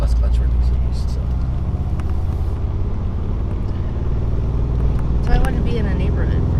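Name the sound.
manual race car engine while shifting gears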